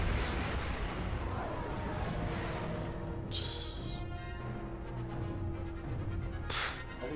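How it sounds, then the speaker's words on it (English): Explosions from a bombing run in the Star Wars: The Force Unleashed II video game, deep rumbling booms blending into a dense, loud battle roar with a couple of sharp bright bursts. "that bombing run just took out the bridge"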